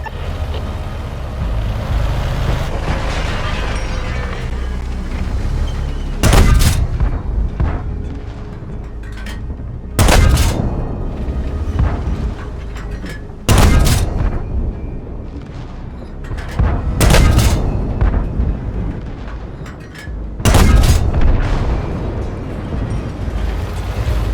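Tank cannons in World of Tanks boom in five loud, evenly spaced shots, each a sharp broadband blast with a rumbling tail, over steady battle rumble and engine noise.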